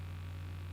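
An electric fan hums steadily, a constant low droning tone with no change, alone and quiet.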